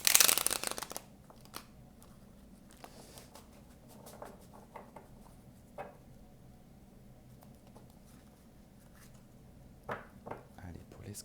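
A deck of tarot cards is shuffled in soft, patting bursts, with a brief louder riffle at the start and scattered quiet card sounds. Someone speaks French over the shuffling.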